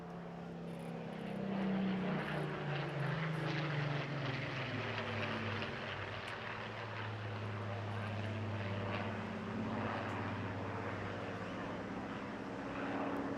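A historic RAF Battle of Britain Memorial Flight propeller aircraft flies past at a seaside air festival display, its steady piston-engine drone loud and continuous, swelling and easing over the whole stretch.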